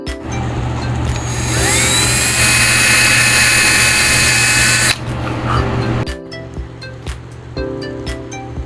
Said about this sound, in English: clamp everything in place so it doesn't slide on me when I'm trying to drill